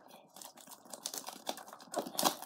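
Small clicks, scrapes and crinkles of a blade slicing through a Shopkins Happy Places toy blind-bag wrapper, close and quiet, in an irregular run of short taps.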